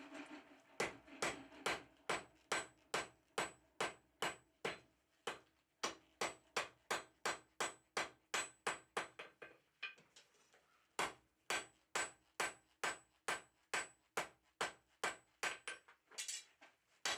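A blacksmith's hammer with a narrow cross peen fullers the end of a steel bar for a toasting fork, striking in a steady, evenly spaced rhythm of ringing blows with one brief pause midway.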